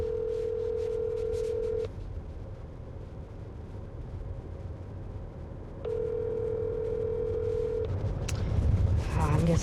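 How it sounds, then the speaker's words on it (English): Ringback tone of an outgoing phone call, two long steady beeps separated by a pause, heard close and fairly quiet with a low hum under it and no talk. "It's actually ringing this time, though."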